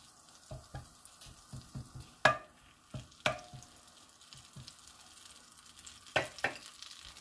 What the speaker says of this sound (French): Donc, on laisse fondre le beurre.